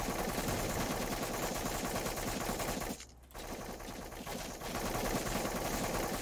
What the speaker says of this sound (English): I'm shooting the flying things